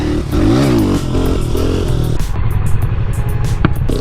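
A trail bike motorcycle ridden up a steep trail, engine loud and close, revving and shifting pitch through the throttle with clattering, rattling chassis noise over rough ground.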